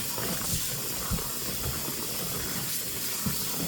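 A steady hiss of running water pours throughout as squid is rinsed and cleaned, with occasional soft thumps and rubbing from the handling.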